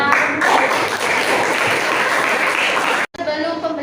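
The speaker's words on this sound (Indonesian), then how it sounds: "beri tepuk tangan buat kelompok 6." A school class applauding a student group, loud close clapping that holds steady for about three seconds, stops abruptly, and is followed by a moment of voices and noise.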